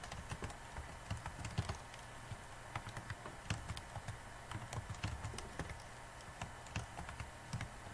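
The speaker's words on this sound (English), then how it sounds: "I am terrible at typing" Typing on a computer keyboard, irregular bursts of soft clicky keystrokes, quiet and close, with no talking.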